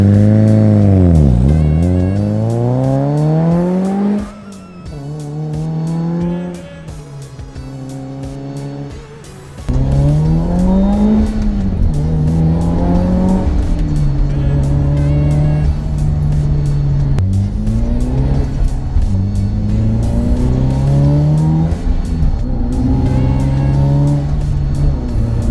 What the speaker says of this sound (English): car sounds so freaking amazing